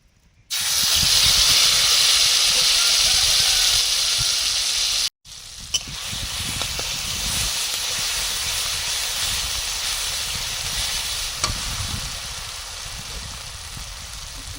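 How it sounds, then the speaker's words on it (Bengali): Loud, steady hissing sizzle of ridge gourd paste stir-fried in oil in a wok, breaking off for a moment partway through before resuming slightly quieter, with occasional scraping clicks. "তাও আমি একটু কড়াতে নেড়ে নিচ্ছি"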